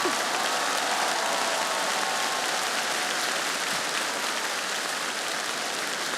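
Sustained audience applause after a live musical improvisation, a steady hissing wash of many hands, fairly distant and even in level throughout.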